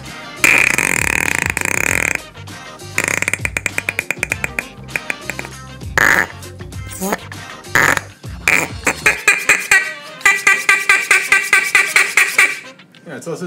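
A soft, squishy dollar store toy is squeezed by hand, letting out loud, close, rapid bursts of fart-like sputters and squelches, some long and some in quick repeated pulses.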